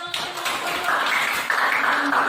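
Classroom applause for a student group during a school lesson, a short burst of clapping from pupils that starts abruptly and carries on steadily to the end, moderately loud and close.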